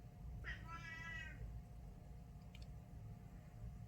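A male cat gives one clear, drawn-out meow early on, close to the recorder, over a steady low background hum, then quiet hum continues.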